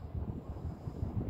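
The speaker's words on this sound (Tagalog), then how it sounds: "Medyo malakas ang hangin, no?" Strong wind off the Pacific Ocean at a high, exposed lookout buffeting the microphone, a low rumbling roar with gusty pulses, loud and continuous, no voices.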